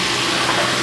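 Bánh xèo batter sizzles in a hot pan at a roadside lunch stall, giving a brief, close, continuous hiss with no voices.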